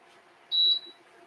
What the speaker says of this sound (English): I don't know why it's beeping, but it's certainly getting hot.